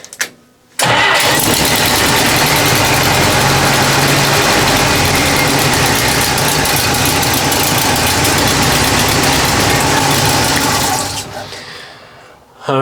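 A Willys Jeep engine fresh from a wiring harness install cranks and catches, then idles loudly and steadily close by for about ten seconds before shutting down.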